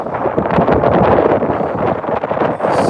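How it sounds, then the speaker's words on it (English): Strong, rough wind gusts across a lake while a boat crosses, buffeting the microphone with a loud, continuous roar. "the wind is pretty rough right now"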